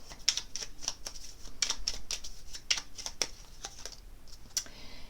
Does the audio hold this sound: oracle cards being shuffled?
yes